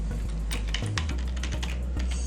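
Fingers tap out code on a computer keyboard in quick, irregular keystrokes, close and clear over a low steady hum.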